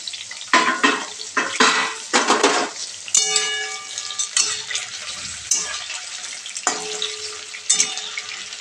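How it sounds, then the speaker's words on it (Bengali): Pointed gourd pieces frying in oil in a pan while being turned and stirred, a loud sizzle broken by several clattering scrapes and knocks of a utensil against the pan, close up and with no talking. "এরকম ঘুরিয়ে ফিরিয়ে ভাজতে হবে, সব দিকটা লাল লাল করে ভেজে নিতে হবে"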